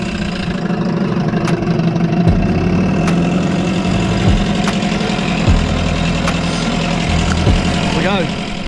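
A 1972 Johnson 3-horsepower outboard motor runs steadily on a sailboat, its small engine putting out a loud, even buzzing drone with faint periodic clicks throughout.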